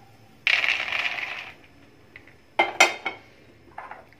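Roasted peanuts being tipped onto a plate, a rattling pour of dry nuts for about a second, then a few sharp clinks and scrapes of utensil against the plate, close and clear, with no talk.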